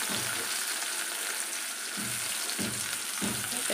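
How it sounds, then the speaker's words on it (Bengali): Onion frying in oil with nigella seeds, a loud steady hiss and crackle of sizzling, broken by a few soft rhythmic stirring scrapes toward the end, close and without talk. "এবার কালো জিরে ফোড়ন দিয়ে এবারে পেঁয়াজটা দিয়ে দিলাম"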